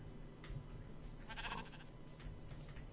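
Sheep in Minecraft bleating, a couple of short wavering baas at moderate distance over a low steady background hum, with no talking.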